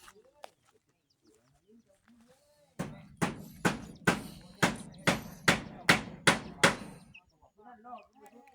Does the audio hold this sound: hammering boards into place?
yes